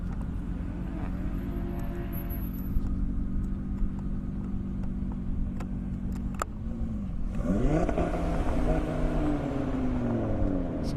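An Audi RS3 at a half-mile airport drag race, its engine droning loudly and steadily before revving and shifting through rising gears, heard from nearby with no talking.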